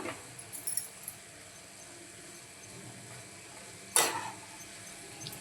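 Red amaranth bhaji is stirred in a pan, Malvani style, with a faint, steady sizzle and a few soft scraping knocks near the start and one sharper clatter of the spoon against the pan partway through.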